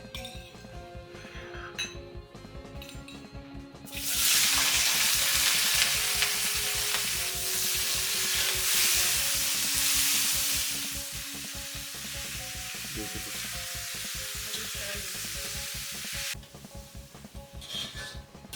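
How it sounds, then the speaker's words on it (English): Capsicum, tomatoes and paneer frying in oil in a kadai, with a loud hissing sizzle that starts suddenly and lasts about twelve seconds between stretches of metallic clinks and stirring scrapes. "So in the same kadai, now we are going to fry the vegetables."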